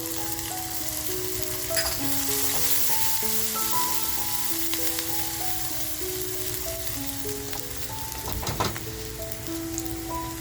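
Garlic and chili sizzle in hot oil in a pan, a steady crackling fry heard close up over a soft melodic background tune, with a couple of sharper pops and no voices.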